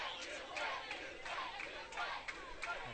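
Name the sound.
UK quidditch team and fans cheering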